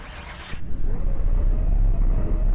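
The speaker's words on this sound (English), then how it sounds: "There's that supercharged V8 we all know and love" A supercharged V8 in a video-game car cranks with a short whirring burst, then catches and settles into a deep, steady rumbling idle, close and loud with no talking.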